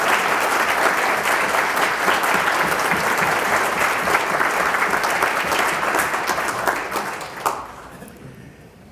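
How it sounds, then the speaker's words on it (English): A crowd applauds at a hall of fame induction ceremony, a dense and steady wash of clapping that holds for several seconds before tapering off near the end. "I'd like to give everyone a round of applause and thank you for being here today"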